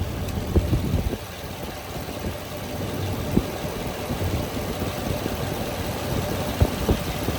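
A 2015 Chevy 3500 HD flatbed truck with a Vortec 5.7 liter V8 idles steadily, a continuous low engine rumble with occasional small knocks, close by and alone.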